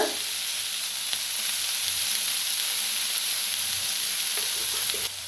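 A tomato roasts in a hot pan for a village-style chicken dish, giving a continuous, even sizzle close up with no one talking.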